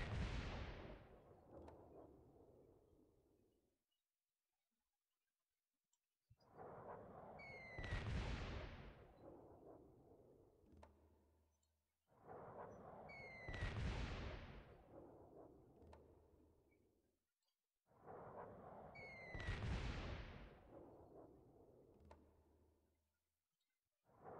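Civilization 3 artillery bombardment in three repeated cycles, each a deep booming blast that swells, holds and decays, with a rising whistle in each later volley and near-silence between volleys.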